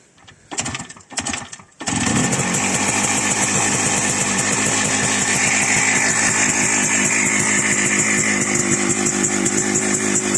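The two-stroke engine of a 1976 WSK 175 Kobuz motorcycle, awaiting restoration, sputters twice, then catches and runs steadily at a loud, buzzing idle up close.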